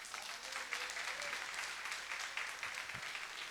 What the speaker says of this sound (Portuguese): E as palmas louvam o Senhor sempre